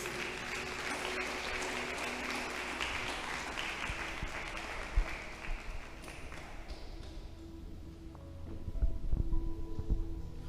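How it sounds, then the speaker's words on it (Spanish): A church congregation applauds at a Spanish-language worship service, a dense sustained clapping that fills the room for several seconds, then thins and fades with a few scattered claps and faint voices near the end. "Y si usted lo cree, le dé un aplauso a Dios."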